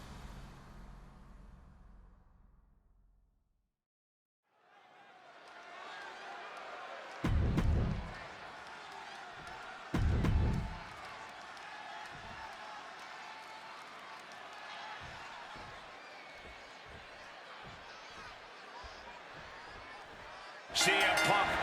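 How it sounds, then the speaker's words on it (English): A large video game wrestling arena crowd in WWE 2K26 roars steadily with cheers and noise, punctuated by a few loud thuds and a sharp burst near the end. "just listen to this crowd here in Chicago"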